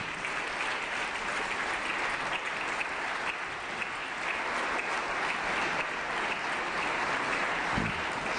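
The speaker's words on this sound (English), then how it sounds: "Give them a round of applause." Enthusiastic applause for a young adult gospel choir in a legislative assembly chamber, a broad, steady wash of many hands clapping that holds at full volume for several seconds with no speech over it.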